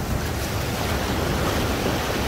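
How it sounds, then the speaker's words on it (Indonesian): Floodwater rushes through the streets of Mecca amid strong gusting wind, a loud, continuous roar of water and wind buffeting close to the microphone, with no talking. "Mekah ini terjadi banjir. Contohnya ini. Dan airnya ini cukup kenceng banget."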